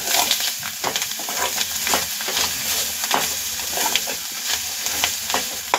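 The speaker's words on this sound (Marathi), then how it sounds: "आता हे आपण एकजीव करणार आहोत।" Masala pav filling, with goda masala, pav bhaji masala and lots of coriander, is stirred in a pan with a steady run of scraping, sizzling strokes. The sound is close and moderately loud, and no one talks over it.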